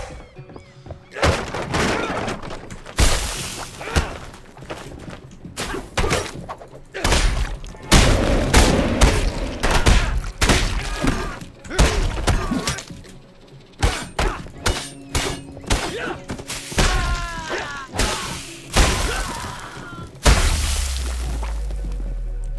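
Melee weapon blows landing on enemies' skulls in the martial arts game 9 Monkeys of Shaolin, a run of sharp thwacks and crunching impacts scattered through busy combat noise with voices over it.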